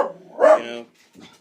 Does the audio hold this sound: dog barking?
yes